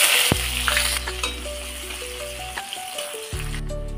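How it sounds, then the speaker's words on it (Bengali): Chopped onions hit hot oil already holding whole garam masala and crushed cardamom, giving a steady, close sizzle for several seconds while sustained musical tones play underneath. "এবার দিয়ে দেবো পেঁয়াজ কুচি"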